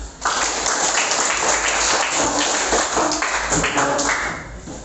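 A classroom full of people claps in sustained applause for a group presentation, loud and even, fading slightly at the end.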